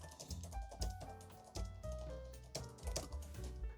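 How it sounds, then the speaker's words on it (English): Rapid keystrokes on a ThinkPad T480 laptop keyboard during a typing test, a quick irregular patter of light clicks close by with no talking, over a soft background of music. "let's go ahead and see how well we do in a little typing test"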